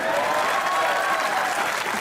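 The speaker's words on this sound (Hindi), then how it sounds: "तालियां।" Studio audience on the Hasna Mana Hai comedy show bursts into dense, steady applause that fills the whole stretch at full loudness, with no talk over it.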